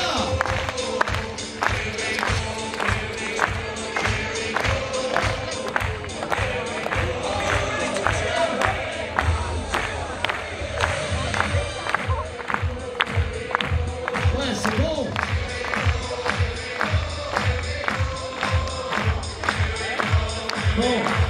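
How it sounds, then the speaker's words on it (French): Crowd at a Toro Piscine event in Moliets clapping together in a steady rhythm along to loud music, regular claps continuing throughout with general crowd noise. "on tape tous dans les mains avec la musique, on y va!"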